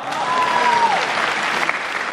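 An audience at an evening singing event claps together in dense, steady applause for a couple of seconds, loud and close.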